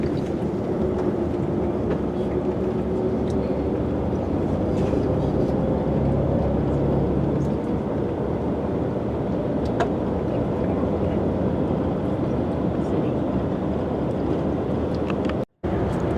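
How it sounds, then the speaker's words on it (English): A vehicle cruising on the Autobahn in Germany, a loud, steady rumble of engine and road noise that continues unbroken throughout, with only a momentary dropout near the end. "We're back on the Autobahn for a short way."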